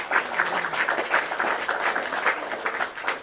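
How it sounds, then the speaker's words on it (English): A small group clapping by hand in a home-style gathering, rhythmic bursts of claps rising and falling steadily for a few seconds, fairly near with no talk over it. "let me clap first"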